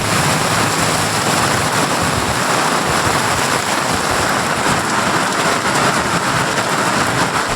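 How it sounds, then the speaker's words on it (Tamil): Heavy summer rain pours steadily over a city in Tirunelveli during a thunderstorm, a loud, dense, continuous wash of rainfall with low rumbling underneath and no voices. "நெல்லை மாநகர பகுதிகளில் இடி மின்னலோடு கோடை மழை கொட்டி தீர்த்தது."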